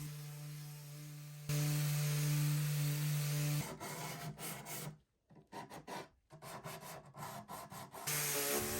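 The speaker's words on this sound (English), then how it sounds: "use a combination of sanding and scraping to remove all the finish off both the nightstands and the dresser." Sandpaper rubs back and forth over wooden furniture to strip off the old finish. The rasping strokes are close and steady, broken by a short pause, with nobody talking.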